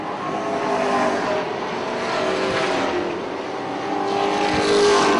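Race cars roar past at Punta Gorda Speedway, a loud continuous engine drone that swells and fades as the pack circles the oval.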